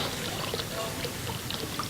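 Water pours continuously for a couple of seconds, a steady splashing trickle heard up close with no talking.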